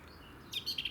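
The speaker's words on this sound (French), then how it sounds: "ce qu'on entend là en fond, c'est le chant de la fauvette à tête noire." A Eurasian blackcap sings a brief bright phrase of quick warbling chirps in a garden in June, faint and a little distant.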